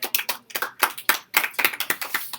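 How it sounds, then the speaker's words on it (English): Scattered hand clapping from a school assembly audience honouring students of the month comes in uneven bursts with short gaps, fairly close and without talk. "A big round of applause for all your keys of excellence and students of the month."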